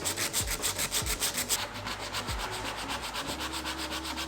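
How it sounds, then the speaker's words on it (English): Hand sanding smooths the edges of a carved wooden wall sculpture in rhythmic back-and-forth rubbing strokes, close and steady, with no voices. "I'm gonna go ahead and actually smooth out the edges even more"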